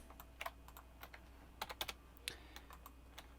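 A loud computer keyboard is typed on during 3D modeling work in Blender, giving irregular bursts of crisp, close clicks with short pauses and no voices.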